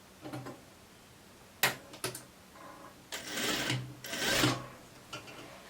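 Sewing machine stitching a sweatshirt, running in short irregular bursts of whirring with pauses between them, close and fairly quiet.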